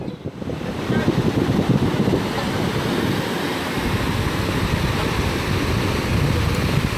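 Atlantic Ocean surf and strong wind on the Ghana coast, a steady broadband roar of waves with wind buffeting the microphone, loud and continuous throughout.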